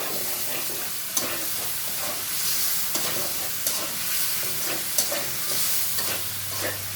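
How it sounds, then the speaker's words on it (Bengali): Small hilsa fish heads frying and being stirred in a pan, a steady crackling sizzle with occasional scrape and clatter of the spatula, close and moderately loud with no talking. "মাথাগুলো একটু কষিয়ে নিব দেখো মাথাগুলোও সুন্দর করে কষানো হয়ে গেল"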